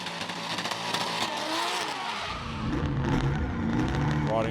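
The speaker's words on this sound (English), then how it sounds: "That angry turbo V8 under the bonnet." Turbo V8 drift cars racing at Sydney Motorsport Park during a Hi-Tec Drift Allstars round, engines roaring and sweeping up and down in pitch with a loud, continuous, rasping drone.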